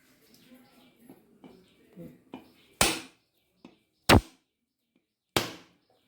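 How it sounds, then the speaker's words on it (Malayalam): A few hard, sharp cracks strike a coconut being cracked open, spaced about a second apart, after softer tapping; close and loud. "ഇനി ഈ തേങ്ങ നമുക്കൊന്ന് പൊട്ടിച്ചെടുക്കാം"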